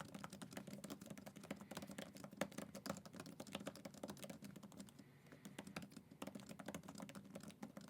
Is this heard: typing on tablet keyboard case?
yes